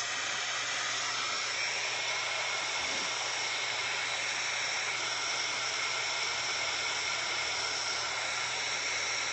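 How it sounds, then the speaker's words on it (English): A heat gun blows hot air to dry ink over yellow paint on a poinsettia and rose painting, a steady, loud broadband hiss that holds unbroken through the whole stretch with no talk over it. "We're going to take the heat gun."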